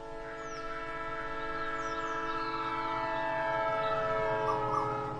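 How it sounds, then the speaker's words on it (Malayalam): A passing train sounds a steady, loud, multi-tone horn-like blare that holds for the whole stretch, swelling slightly toward the end, with no voices. "ട്രെയിൻ പോകുന്ന ഒച്ച കേൾക്കുമ്പോഴൊക്കെ ഞാൻ മറിയന്ത്രേസി ഓർക്കും."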